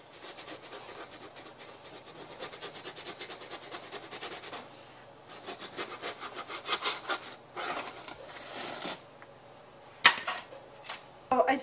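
A knife trims the edges of stacked Italian rainbow cookie layers, giving a run of faint, rapid scraping and rubbing strokes with a few sharper clinks near the end, close and quiet, with no talking.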